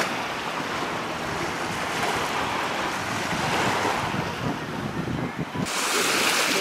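Ocean surf washing onto a beach in the Philippines, a steady broad roar of breaking waves with wind buffeting the microphone, loud and continuous throughout.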